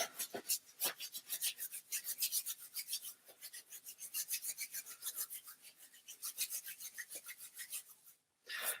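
Hands being rubbed together briskly, palms and then backs, making a steady dry rasping swish that pulses rhythmically and continues close by for several seconds with no talking.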